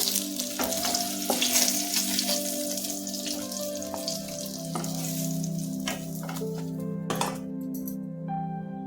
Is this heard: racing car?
no